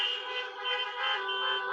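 Several car horns honk together at an outdoor drive-in event, a sustained chorus of overlapping toots lasting the whole moment with no voices over it.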